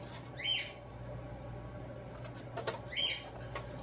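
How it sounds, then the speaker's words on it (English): Birds squawk and flap their wings close by in two short bursts, about two and a half seconds apart, over a steady low background hum in a kitchen while eggs are boiled in a pan. "Apologize for the birds, they're quite annoying"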